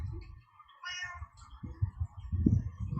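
A cat meows loudly and repeatedly at close range in a home during an online yoga class, with a higher whining cry mid-clip and lower throaty calls toward the end.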